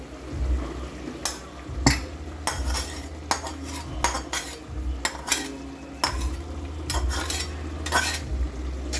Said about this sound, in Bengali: এবার আমি নেড়ে দেবো একটা খুন্তি দিয়ে।